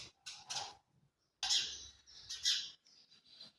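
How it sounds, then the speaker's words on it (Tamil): Sparrows chirp in a few sharp, bright bursts separated by short pauses, close by and fairly clear, with no talking. "சிட்டுக்குருவி போயிடுங்கடா."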